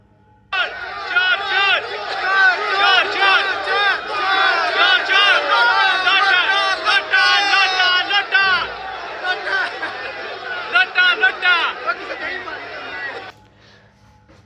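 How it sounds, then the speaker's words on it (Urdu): A large crowd in Medina chants "chor chor" slogans together, a loud, dense mass of massed voices in rhythmic shouting that runs steadily for about twelve seconds before cutting off. "یہ مدینہ میں چور چور کے نعرے لگے ہیں، ذرا سنیں۔"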